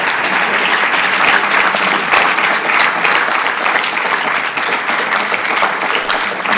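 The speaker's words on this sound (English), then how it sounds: "Can we actually have a big round of applause to both of the candidates" Loud, dense audience applause after a student union debate, continuous clapping from a large crowd filling the room for several seconds without a break.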